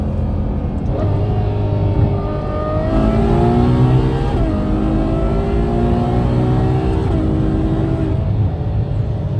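A Ferrari GTC4Lusso V12 engine revs hard through several rising pulls, each climbing in pitch before a gearshift, loud and close with a deep rumble.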